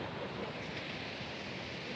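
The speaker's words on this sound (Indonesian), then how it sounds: "Kita berada di pantai sebelah barat" Steady rush of surf at Blosok beach on a west-coast shore, a continuous broad hiss of breaking waves with wind, fairly close and without voices.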